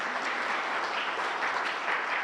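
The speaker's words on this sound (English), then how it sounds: "A better round of applause for Leah." Steady, dense audience applause fills a conference hall at a nutritious food project closure event, continuous and fairly loud throughout with no talking.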